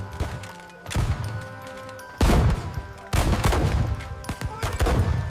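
Napoleonic battle at Leipzig in 1813, with loud bursts of artillery bombardment and gunfire crashing in repeated volleys, booming blasts over a continuous rumbling din of distant shots.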